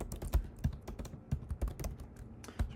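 Code being typed on a computer keyboard, with sharp, irregular keystroke clicks and small bursts of taps, close and alone.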